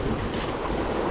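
River rapids rush loudly past a drift boat on a trout float trip, a steady close roar of churning water with wind buffeting the microphone and no talk.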